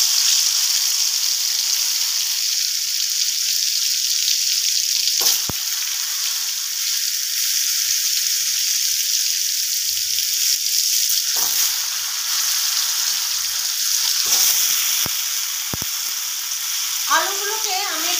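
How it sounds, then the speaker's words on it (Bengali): Parboiled potatoes with turmeric and spice paste fry in a pan for a festive aloo dum, giving a steady, loud, close sizzle throughout with a few brief stirring clatters and no talk. "আলুগুলোকে আমি একটু সেদ্ধ করে নিয়েছিলাম, তো যাই হোক একটু ভাজা ভাজা করে নেব।"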